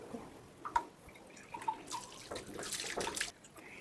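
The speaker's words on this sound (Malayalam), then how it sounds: "ഈ ഒരു ബോട്ടിൽ വെള്ളം ഒരു ഗ്ലാസ്സിലേക്ക് ഇങ്ങനെ ഒഴിച്ച്" Water is poured from a bottle into a glass, a faint trickle and splash that grows into a fuller gurgling pour toward the end, close and quiet, with no speech.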